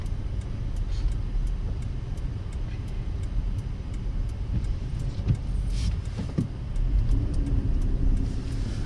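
Cabin rumble of a Toyota 4Runner in four-wheel-drive high lock driving on snowy roads, a steady low road and engine drone with faint regular ticking, growing slightly louder near the end.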